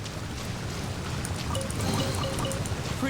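Video game waterfall ambience, a steady rushing, splashing wash of water with faint trickling detail, moderately loud and continuous throughout without any speech.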